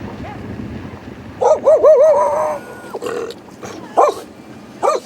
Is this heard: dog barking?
yes